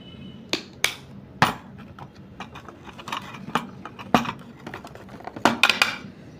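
A spoon clinks and scrapes against a bowl while homemade skin polish is mixed, making sharp irregular taps and scraping strokes close by with no talking.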